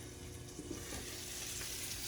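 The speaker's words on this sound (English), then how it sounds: "I have a piece of salmon frying" Soft, continuous sizzling of a large salmon fillet frying in a pan, a quiet steady crackle with no voices.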